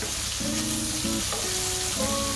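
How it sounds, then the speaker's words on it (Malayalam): Onions and fried chicken sauté in a pan for a chicken roast, giving a loud, continuous sizzle with faint tonal squeaks from stirring, and no talking. "എന്നിട്ട് ഇവരെ നമുക്ക് നന്നായിട്ട് അങ്ങോട്ട് ഇളക്കി അങ്ങ് വഴറ്റണം"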